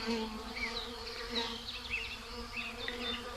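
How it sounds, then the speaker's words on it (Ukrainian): Bees buzzing steadily around flowering boxwood in a spring flower garden, a continuous close hum with individual insects drifting nearer and farther, no voices. "А ось тут уже прокинулися бджілки-трудівниці."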